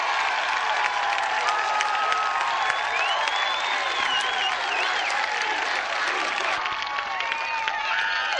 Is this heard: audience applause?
yes